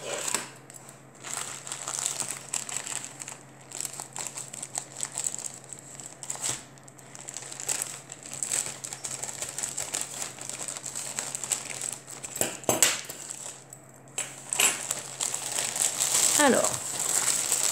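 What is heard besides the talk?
opening a plastic-wrapped diamond painting kit package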